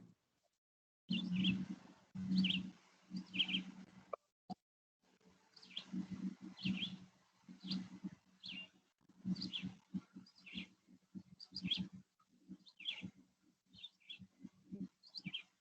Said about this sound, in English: Whose bird is that? That bird is talking.